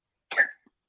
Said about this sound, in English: that's my cat. He's having an asthma attack.